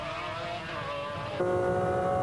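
A McLaren-engined GT race car drones past a Lotus through a corner, a steady engine tone that shifts pitch partway through, moderately loud with no voices.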